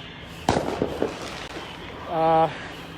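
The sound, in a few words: fireworks popping outdoors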